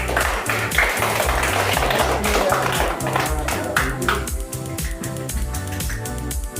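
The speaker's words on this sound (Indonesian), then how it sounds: "ayo beri tepuk tangan" Classmates in a classroom clap for a student who came to the front, a scattered run of claps under a steady low background tone that thins out midway.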